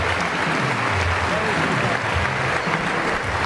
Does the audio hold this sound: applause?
yes